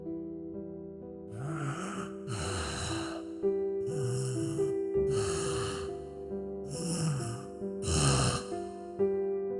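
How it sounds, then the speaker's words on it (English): Slow, heavy breaths repeat in a steady rhythm, each ragged inhale rasping and snoring-like before it fades, close and alone in an otherwise quiet space. "Breathing."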